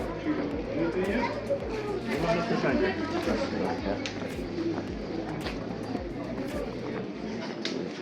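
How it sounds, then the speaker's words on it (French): A small pigeon coos in a French town street on a walk around Mont-Saint-Michel, its soft calls mixed into crowd chatter, footsteps and steady outdoor bustle. "Un petit pigeon."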